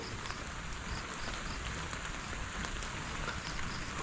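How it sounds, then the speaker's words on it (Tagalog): Steady light rain pattering on a surface, a soft continuous hiss with faint scattered drops and no voices. "lumakas na may ambon"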